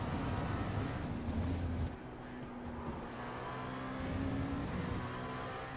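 An LMP2 prototype race car in a racing video game at the Red Bull Ring: a steady, droning engine note holds throughout with a shift in pitch near the middle, no talking over it.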